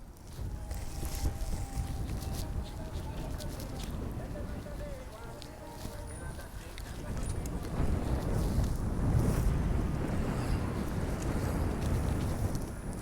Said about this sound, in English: the winds are a little gusty